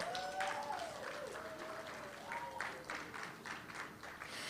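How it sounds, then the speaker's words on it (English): Audience applause at a charity foundation livestream event, sustained clapping at moderate volume with a few brief voices and whoops mixed in, tapering slightly near the end. "give her a standing ovation, coupled with that very loud applause"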